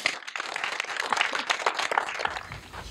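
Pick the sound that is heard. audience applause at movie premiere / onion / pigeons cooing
audience applause at movie premiere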